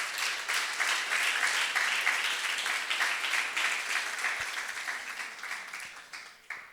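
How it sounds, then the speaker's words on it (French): Audience applause at a talk on setting and reaching goals, a dense, steady clapping that holds at moderate loudness, then slowly thins and fades over several seconds. "un peu d'applaudissements pour vous tous"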